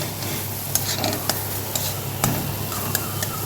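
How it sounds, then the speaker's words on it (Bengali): A steady low bubbling simmer of chutney with salt, turmeric, water and a little sugar fills the clip, with occasional light clicks and taps of a spoon against the pan, close and continuous. "চাটনিটা ফুটছে"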